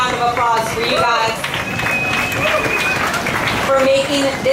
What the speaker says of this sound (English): A big round of applause for you guys